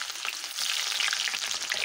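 Onion pieces sizzle and crackle steadily as they fry in hot oil in a home kitchen pan, a close, continuous hiss that gets denser after the first half-second.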